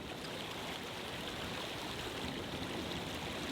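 Clear mountain river rushing steadily over rocks in the Altai, a continuous broadband wash of flowing water, close and even throughout with no voices.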